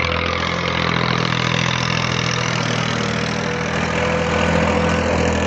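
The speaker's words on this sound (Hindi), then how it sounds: "तो ट्रैक्टर भी आ गया" A tractor engine idles close by with a steady, even low rumble and a constant mechanical drone that holds without change throughout.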